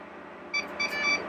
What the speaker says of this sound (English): we're going to turn this on until you hear it beep